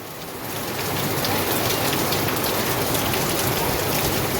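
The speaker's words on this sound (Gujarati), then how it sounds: "ગાજે જે વરસાદ જોરદાર આવે છે, એમ પવન હાર્યો છે, કેવો વરસાદ આવે, પવન બહુ છે" Heavy rain pours in Surat, swelling in the first second into a loud, continuous roaring wash that stays constant to the end with no voices.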